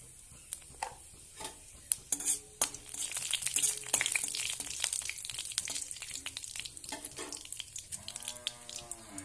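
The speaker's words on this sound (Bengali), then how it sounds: "কড়াইতে খুব অল্প করে একটু তেল দিয়ে দিয়েছি, দিয়ে দিচ্ছি দুটো শুকনো লঙ্কা, পাঁচফোড়ন" Dried red chillies and panch phoron crackle in a little oil in a wok for a sweet date chutney, with sharp pops and sputters over a steady sizzle, plus some stirring and a brief low tonal sound near the end.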